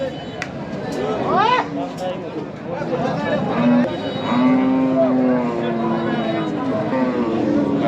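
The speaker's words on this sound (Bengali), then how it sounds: "আমাদের সামনে কালো রঙের একটি সাইওয়াল সার হচ্ছে" A black Sahiwal bull and other cattle at a busy livestock market give several loud, drawn-out moos close by, over a constant murmur of crowd chatter.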